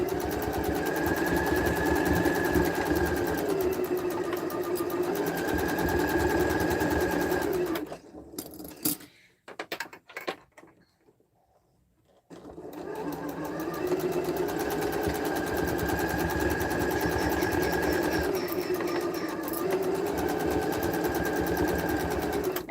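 A sewing machine stitches quilt pieces in long, steady whirring runs on either side of a brief pause, close and even, with no talking.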